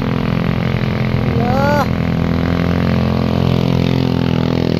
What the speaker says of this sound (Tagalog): Naririnig niyo yung motor? O, diba? Umiiyak na ang motor.